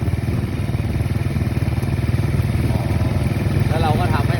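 A walking tractor engine runs nearby on a rice farm, loud and steady with a rapid chugging, clattering pulse throughout.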